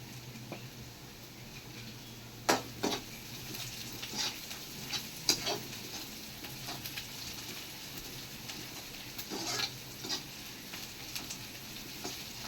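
A soft, steady sizzle and bubbling of paneer and pea gravy simmering in a pan, with occasional light clicks and scrapes of stirring, close and fairly quiet.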